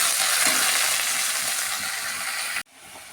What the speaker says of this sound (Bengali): এবার লাউ পাতাগুলো দিয়ে ভাজা ভাজা করে নামিয়ে নেব